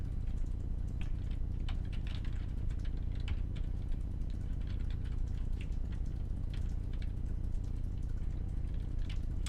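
Rapid tapping of keys on a computer keyboard while a command is entered, steady light clicks over a constant low hum, fairly close and soft.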